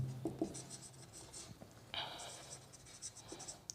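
Chalk or marker writing on a board during a Hindi-language triage lecture, with soft scratchy strokes and taps close by, fairly quiet, and a brief bit of room noise in between.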